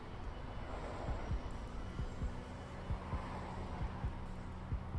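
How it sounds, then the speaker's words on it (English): A slow, steady heartbeat thumps low and regular, about one beat per second, under a dull ambient hum during a tabletop role-playing game session. "It's the heartbeat of Vinny."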